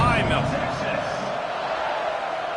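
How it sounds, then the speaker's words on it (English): Stadium crowd noise in College Football 26 during an Alabama at Texas game, a broad steady roar heard under a commentator's voice. "this crowd now ready to get behind them"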